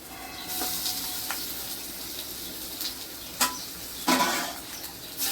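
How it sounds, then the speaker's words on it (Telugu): Curry leaves sizzle and hiss steadily in hot oil in a pan while mango pulihora is prepared, with a few sharper crackling spurts rising out of the continuous frying noise. "కరివేపాకు వేసుకున్నాం కదా ఫ్రై అయిందండి"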